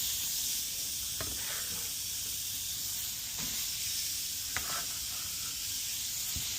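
Onions sizzling in an 8.5-inch Our Place titanium pan, a steady broadband hiss of frying running throughout with a few faint clinks and taps over it.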